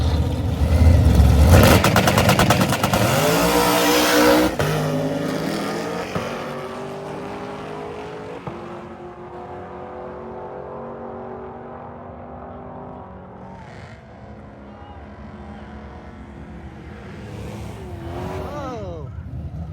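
A drag race car roars down the strip at full power on a full pass, a loud engine howl that fades into the distance over several seconds, with crowd noise around.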